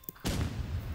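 A grenade blast in the Roblox video game: a brief thump, then a loud, dense burst that lasts to the end of the clip. Faint game sound comes before it.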